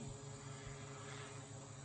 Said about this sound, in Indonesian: Drone-nya udah naik. Pasti enggak kelihatan, cuma kedengeran aja.